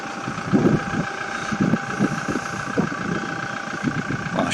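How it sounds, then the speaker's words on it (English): A toy Toyota Hilux truck plays a diesel engine sound effect, a steady idling rumble with faint rhythmic pulses, close and alone with no talking. "A shiny new Toyota Hilux Truck. It also has that same sort of diesel engine sound effect."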